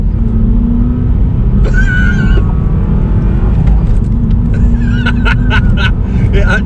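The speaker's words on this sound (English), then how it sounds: "you can actually hear an intake noise" A Vauxhall Astra pulls in second gear with a fresh air filter fitted, giving a steady, loud engine drone and rumble with a faint whistling intake note rising toward the end; a voice speaks briefly over it.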